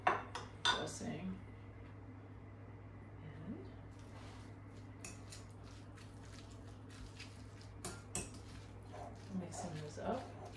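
Creamy chicken salad stirred together with dressing in a bowl: soft, wet squishing and scattered clinks of a utensil against the bowl, quiet and close, with a steady low hum behind and faint speech.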